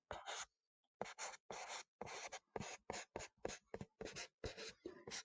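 Pen writing out a chemistry answer on paper in bursts of close, scratchy strokes separated by short pauses, with no voices.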